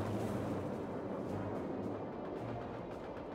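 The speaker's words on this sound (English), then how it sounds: "Listen, roar of the Soviet guns." Continuous rumbling Soviet artillery cannon fire in a WWII real-time strategy game, a dense roaring barrage of overlapping booms with no gaps and no talk.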